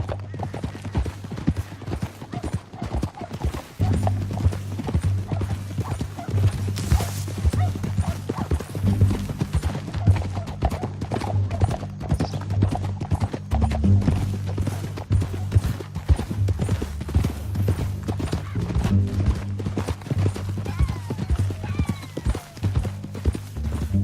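Steady clip-clop of horse hooves at a trot in Red Dead Redemption 2, continuous and fairly loud throughout, with low rumbling underneath and occasional faint voices.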